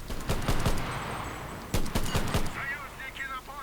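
Mondragon semi-automatic rifle firing in the WWII shooter Enlisted: two bursts of several sharp, closely spaced shots over battlefield noise, then quieter ambience with faint chirping tones.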